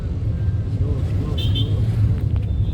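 A car being driven through city streets, its steady low engine hum and road rumble running throughout at close range, with a brief higher tone partway through.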